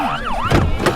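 An ambulance siren wails loudly and close by in a rising and falling sweep, with crowd noise underneath.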